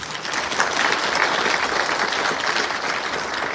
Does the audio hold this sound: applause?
yes